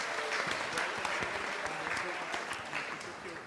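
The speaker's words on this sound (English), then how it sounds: "Can we give a big round of applause to all of you for being here?" Steady audience applause fills a temple hall during a Sunday feast, a dense wash of many hands clapping at an even level throughout.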